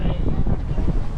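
Wind buffets the microphone aboard a yacht on Victoria Harbour in Hong Kong, a loud, continuous low rumble over the whole short stretch with faint voices mixed in.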